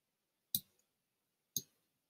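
Two crisp computer mouse clicks about a second apart, each a sharp isolated tap with a short decay, close and alone in a quiet room with no talking.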